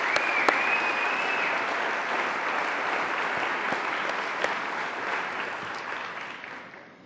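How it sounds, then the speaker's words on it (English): A large audience applauds at a cystic fibrosis conference plenary session, a dense, even clapping from many hands that holds steady for several seconds before fading away at the end. "Please give Cynthia and her amazing team a round of applause for their superb work."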